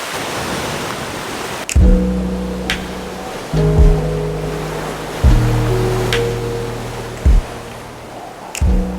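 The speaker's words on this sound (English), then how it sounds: "Waterfall going down to the ocean" Steady broadband roar of ocean surf at high tide with a waterfall rushing down into the sea, punctuated by several loud low thuds of strong waves breaking at irregular intervals.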